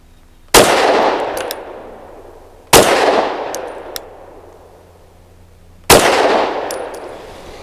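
A SAR 9C Gen 3 pistol fires Federal American Eagle ammunition: three loud, sharp shots spaced a couple of seconds apart, each followed by a long ringing, reverberant decay, with no talking.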